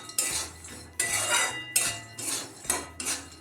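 Peanut chutney with red chili powder and salt is stirred in a pan off the heat, giving four or five rhythmic, close scraping strokes of a utensil against the metal.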